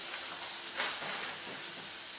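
Rice goes into a hot pan of sizzling onions and peppers for paella, a steady frying hiss with a couple of small scraping stir clicks, close and continuous.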